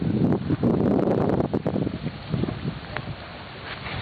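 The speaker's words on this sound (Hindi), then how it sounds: "भाई तेज हवा अभी चली है एकदम" Strong wind gusting near trees at night, a loud, continuous roar buffeting the microphone for the first couple of seconds, then easing to a softer rush.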